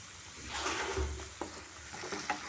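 Cauliflower gobi manchurian is stirred in a pan with soy sauce and red chilli sauce. It gives a soft, steady sizzle with scraping and clinking strokes of the spoon, quiet and close, with no voices.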